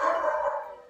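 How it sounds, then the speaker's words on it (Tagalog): A single dog bark, drawn out into a short howling yelp, loud and fairly close, heard alone. "Ang ingay ng aso."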